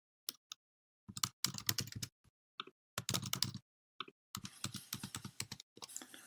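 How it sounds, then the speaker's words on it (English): Someone types on a computer keyboard in quiet, close bursts of key clicks separated by silent pauses, with no voices. "So type in that info."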